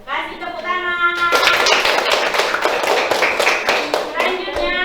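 After a child's spoken reply, a classroom of students bursts into brisk hand clapping for about three seconds, close and loud, with children's voices around it and a voice resuming as it ends.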